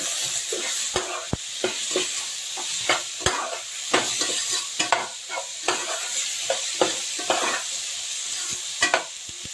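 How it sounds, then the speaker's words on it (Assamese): Food being stirred in a pan after salt and turmeric go in, with repeated scraping strokes of a utensil against the pan over a steady sizzle, close and fairly loud, no talking. "এতিয়া ধুনীয়াকৈ মিক্স কৰি দিম।"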